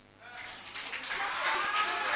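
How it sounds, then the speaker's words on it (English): An audience at a student presidential vetting claps, a burst of applause that builds quickly and holds steady, with a voice heard over it. "If you want to clap, we have to finish everything. You are distracting us."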